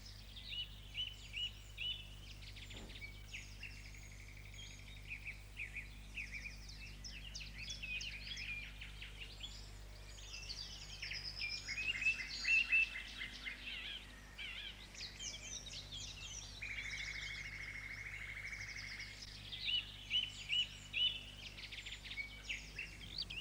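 Many birds singing together in a May dawn chorus, overlapping chirps, trills and whistles at varied distances, some near and clear, others faint, with a steady low hum underneath and no talk.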